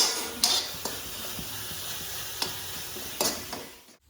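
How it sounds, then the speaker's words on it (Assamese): Grated coconut roasting in a pan for Bihu pitha sweets, giving a steady dry hiss broken by several sharp scraping strokes as it is stirred; no one speaks. "এয়া নাৰিকলখিনি ভাজি ল'লোঁ"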